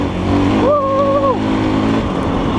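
A GEON X-Road 250 PRO enduro motorcycle runs with a steady, loud engine drone close by, and a brief tonal whine rises and holds for under a second partway through.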